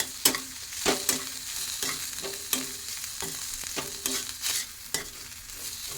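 Ground spices, including kitchen king masala and coriander powder, sauté in oil for a farsan curry, with a soft background sizzle and sharp, irregular spatula scrapes and knocks against the pan, close by and quiet.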